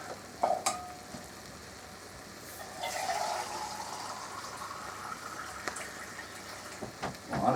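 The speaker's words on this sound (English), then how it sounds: "I'll add a can of water" Water from a can pours into a pot of cooking potatoes and stuffing, producing a steady sloshing, sizzling wash for several seconds, bracketed by a few sharp knocks and clinks, close and moderately loud with no talking.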